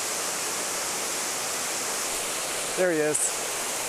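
A secret waterfall in Tennessee roars in a steady, loud, broadband rush that fills the whole scene, with a man's brief remark near the end.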